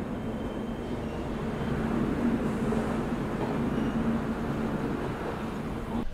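An express train on the Indore to Akola route runs at night alongside a parallel departure of the Indore–Nagpur Trishatabdi Express, giving a steady, continuous rumble and rattle heard from on board.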